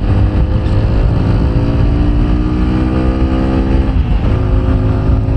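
A TVS Apache 160 4V FI ABS motorcycle engine drones loudly and continuously while riding, its pitch shifting gradually as the bike accelerates, with wind rush throughout.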